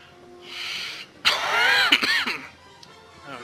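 A man coughs in a short harsh burst, loud and close, with a rougher throaty stretch in the middle and a faint breathy sound before it.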